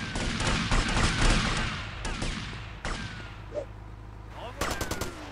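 Rapid gunfire in Grand Theft Auto: Vice City, loud automatic bursts and single cracks layered over game noise, dense at first and then more spaced out toward the end.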